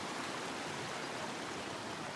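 Mission Creek runs beside a flat campsite under a tree, giving a steady, close rushing wash of flowing water that holds evenly for the whole stretch, with no talking.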